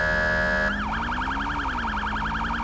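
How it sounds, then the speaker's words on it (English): A modern police siren from GTA V FiveM starts as a steady electronic tone, then switches to a fast, loud, continuous warbling wail that repeats evenly. "I love the siren."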